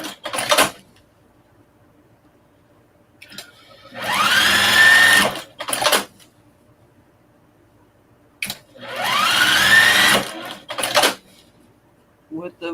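A sewing machine quilting a fabric shopping bag, running in two steady whirring bursts of a few seconds each, loud and close, with brief clicks and handling noises between the runs.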